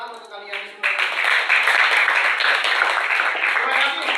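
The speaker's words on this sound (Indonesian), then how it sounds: "Tepuk tangan untuk kalian semua." Students in a school classroom clapping together, a dense burst of applause that starts after a brief moment of speech and continues steadily and loudly to the end.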